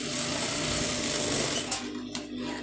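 A sewing machine stitches a shoulder seam with a quarter-inch allowance, running as a steady, loud, continuous whir that slows and stops near the end with a couple of brief clicks.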